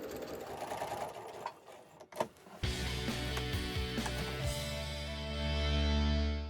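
A sewing machine backstitches across a quilted table runner, starting with a soft clunk and settling into a steady close motor whir that runs on to the end.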